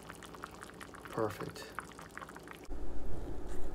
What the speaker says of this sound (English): There you go, off the fire, still bubbling away.